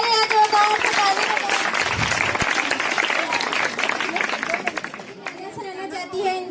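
Applause from a school audience at a Teachers' Day and farewell ceremony in India, a dense sustained clapping wash mixed with crowd chatter and voices, easing near the end.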